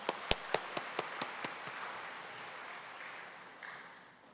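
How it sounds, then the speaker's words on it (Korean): An audience in a church claps for a choir after its hymn, a quiet, thin patter of hands. A few sharp claps open it, then the clapping fades into a soft wash that trails away. "제일교회 찬양에 다시 한번 박수를 올려드리겠습니다"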